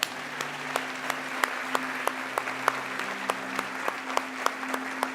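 A church congregation claps along in steady, evenly spaced beats, a rhythmic unison clapping over sustained organ or keyboard tones, moderately loud and continuous.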